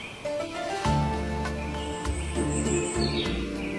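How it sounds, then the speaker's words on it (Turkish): Birds chirping outdoors, high tweets and calls scattered over the clip, heard faintly above a continuous low hum and a sustained tonal background. "Kuşlar nasıl da cıvıldıyor bak."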